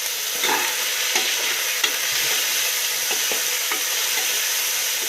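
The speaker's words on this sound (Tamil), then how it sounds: "இப்போ நல்லா இது மிக்ஸ் பண்ணி நல்லா வதங்க விட்டுடலாம்" Onions sautéing with salt in a cooker for Tamil chicken curry, a steady close sizzle with light intermittent scrapes and taps of a spoon stirring through the pan.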